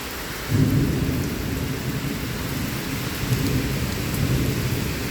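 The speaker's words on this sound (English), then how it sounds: "There's definitely a storm thunderstorm. Maybe the best rainstorm we have." Heavy rain pours steadily during a severe thunderstorm with damaging winds in southeastern Pennsylvania, while loud, close rumbles of thunder roll in and swell over the dense hiss of rainfall.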